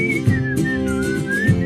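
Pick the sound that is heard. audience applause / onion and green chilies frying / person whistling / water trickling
person whistling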